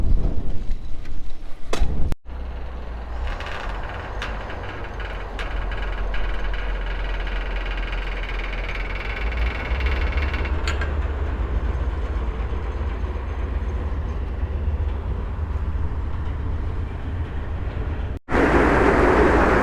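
A river ferry's engine drones steadily and close at hand during a crossing in Hungary with a bicycle on board, a continuous low rumble that holds for the full stretch with no one speaking.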